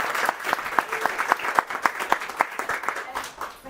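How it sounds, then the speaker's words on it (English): At a postgraduate symposium, a small audience claps in a sparse, uneven round with individual claps clearly distinct, fairly close and moderately loud. "A round of applause,"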